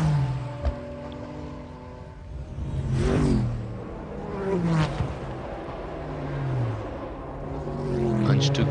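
Hans-Joachim Stuck's race car at the 1996 Le Mans 24 Hours, a loud engine note with rising and falling pitch sweeps as it accelerates and passes, over steady track ambience.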